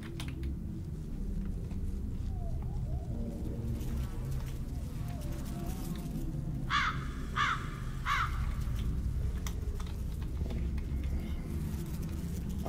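Crows caw three times in quick succession inside the horror video game Silent Breath, the calls standing out over a low rumbling ambient background, with faint clicks heard around them.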